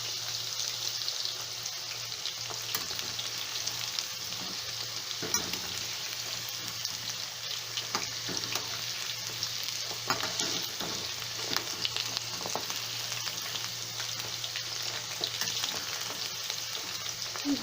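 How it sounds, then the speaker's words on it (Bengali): Pieces of chicken sizzle steadily in a pan of hot oil for a chili chicken gravy, a constant loud crackling hiss with occasional sharper pops and faint utensil clinks, no voices. "পুরো মাংসের টুকরোগুলোই আমার ভাজা হয়ে গেছে"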